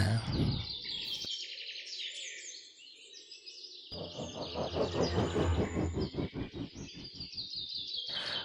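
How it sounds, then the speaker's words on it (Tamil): Mockingbird song, loud and varied: a bright burst of call notes, a short pause with a faint lower hum, then a dense run of rapid repeated chirps and trills with a steady rhythm that lasts to the end. "மோக்கிங் பேர்ட், அதாவது தமிழில் புன்னாகம். இது ஒரு பறவை இனத்தை சேர்ந்தது."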